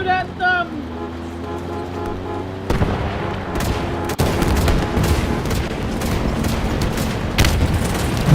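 Rapid gunfire from a Halo Infinite desert battle in bursts and rattling volleys, loud and close, mixed with rumbling vehicle and ambient noise, with talk over the top.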